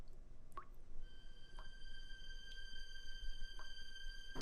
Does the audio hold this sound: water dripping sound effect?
yes